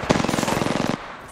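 Rapid automatic gunfire in a video game, a loud close burst of evenly spaced shots lasting about a second before cutting off abruptly.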